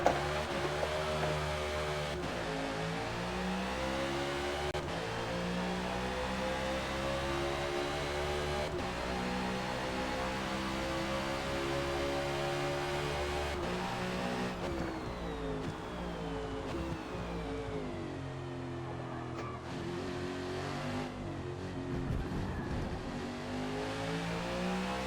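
A NASCAR race car engine roars steadily in Forza Motorsport at Indy GP, a sustained loud drone that rises and falls with gear shifts and revving throughout, alone without talk.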